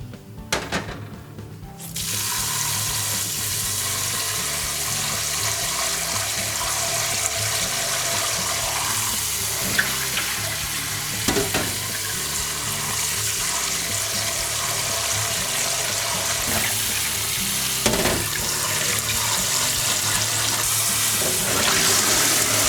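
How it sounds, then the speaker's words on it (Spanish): Rice for sushi is rinsed under running tap water in a kitchen sink, a loud, continuous rush of water with occasional splashes and clinks, after a brief quieter start. "El primer paso es enjuagar el arroz. Lo lavaremos bien, aclarándolo y cambiándole el agua unas 7 u 8 veces"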